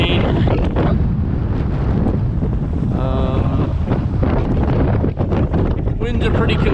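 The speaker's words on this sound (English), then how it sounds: "Winds are pretty consistent, you know, probably 15, I'm guessing. Every once in a while it gusts" Gusty wind buffets a sailboat moving under a sliver of jib with the main never raised, roaring steadily and loudly across the microphone with water wash beneath and a voice speaking over it.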